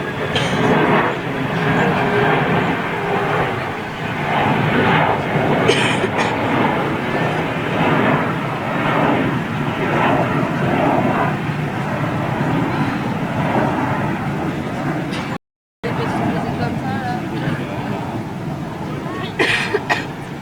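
An Airbus jet passes during a 50th anniversary fly-past in Toulouse, a broad roaring engine rumble that stays strong for about fifteen seconds, heard outdoors from a distance with faint crowd murmur beneath, then briefly cuts out and resumes.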